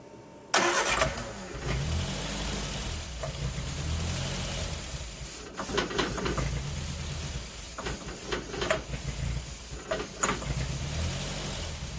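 Long-dormant Triumph Spitfire barn-find engine cranks and catches, then settles into a rough, uneven mid-pitched idle with occasional revs, close by and steady throughout.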